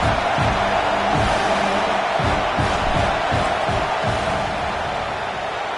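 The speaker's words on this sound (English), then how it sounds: "This crowd trying to do its part to get inside the kicker's head." Football stadium crowd roaring during a field goal attempt, a loud continuous wall of noise holding steady throughout.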